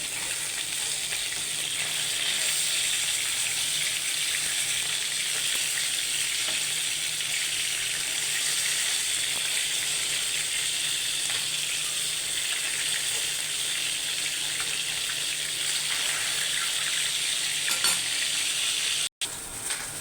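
Fish frying in oil in a kadai, cooked alongside okra in a home kitchen, giving a steady, dense sizzle that runs unbroken for the whole stretch, with faint stirring and a brief clatter near the end.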